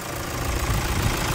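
Engine of a 2008 Toyota SW4 running steadily at idle, a continuous close rumble with a low, slightly knocking pulse and no talk.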